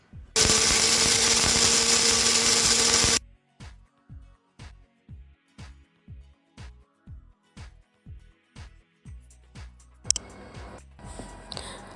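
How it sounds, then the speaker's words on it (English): Dried orange peel is ground to powder in an electric grinder: one loud, steady roaring burst of about three seconds, then a series of sharp, regular knocks and taps, with rustling handling noise at the end. "you can just use orange peel. So I'm going to grind this"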